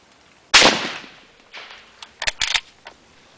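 A 1943 BSA No4 Mk1 Lee Enfield rifle fires a single loud, sharp shot that decays into an echoing tail, followed by fainter clicks and clatter of the bolt being worked.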